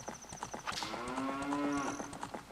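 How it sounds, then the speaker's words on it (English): A cow in Ocarina of Time lets out a long, loud, echoing moo, close and alone over game background sounds. "Did y'all hear that echo on that moo?"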